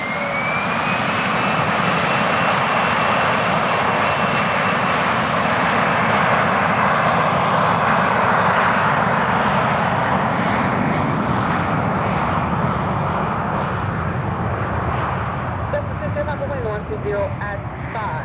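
A plane rolls down runway 16 right at Van Nuys on a rainy day, its engine roar building and holding loud and continuous, with a rising whine and the hiss of wet pavement underneath, fading slightly near the end.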